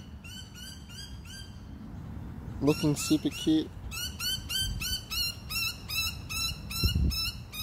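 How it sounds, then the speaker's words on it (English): Noisy miner birds give repeated sharp chirping calls in rapid bursts, fairly close, with a voice talking briefly in the middle. "wondering what the hell those birds are twittering about"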